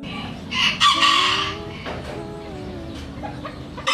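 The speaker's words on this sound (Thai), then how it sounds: "เสียงขันหวานใสแสบแก้วหู" A bantam rooster crows nearby, a loud, high, piercing call lasting a few seconds with a clear rising and falling shape.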